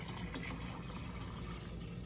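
Water pouring steadily into a gallon jar of cold brew tea bags for iced tea, a continuous close splashing fill with no pauses.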